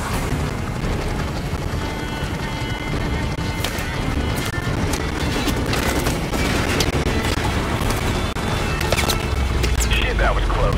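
Dense gunfire and RPG explosions from the video game Call of Duty: Modern Warfare Remastered rattle and boom continuously in a loud battle din, with sharp shots scattered throughout.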